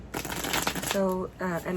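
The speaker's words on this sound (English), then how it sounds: "I don't know why I'm doing that because I already pre-shuffled, but I guess I'm being called to" Tarot cards shuffled by hand give a quick burst of crisp riffling and crackling, followed by a voice speaking over and after the shuffle.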